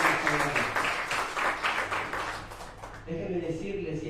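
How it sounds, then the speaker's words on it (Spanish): A church congregation at a Spanish-language family service claps in a steady burst of applause for several seconds, fading as a voice takes over. "yo quiero que le demos un fuerte aplauso a estas tres personas"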